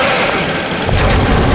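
A telephone rings with a rapid electronic trill, loud and close, filling the short moment with no voices.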